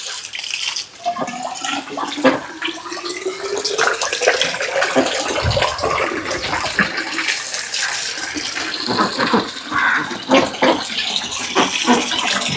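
Water pours into a large fish tank with a loud, continuous, close rushing and gurgling whose pitch slowly rises as the tank fills.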